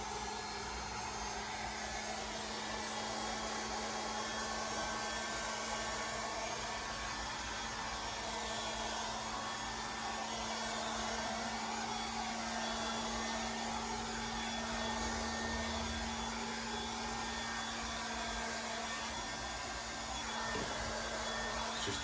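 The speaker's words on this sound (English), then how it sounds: "We'll get the heat gun. Heat gun on low." A heat gun runs on its low setting with a steady, unbroken blowing hum, close and constant throughout, with no talking.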